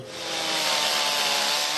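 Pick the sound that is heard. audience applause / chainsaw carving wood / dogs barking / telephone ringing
chainsaw carving wood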